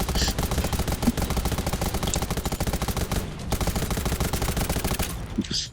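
Sustained automatic gunfire in the game Undawn, a long, fast, evenly spaced string of loud shots with a short pause partway through before firing resumes, then stopping at the end.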